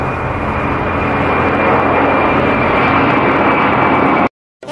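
An airplane in flight gives a loud, steady engine roar that fills the scene, then cuts off abruptly near the end.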